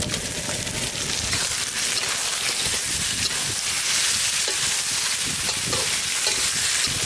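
Chicken frying in a pan with onion and chopped tomato gives a steady, close sizzle with stirring scrapes throughout, loud and continuous with no one talking.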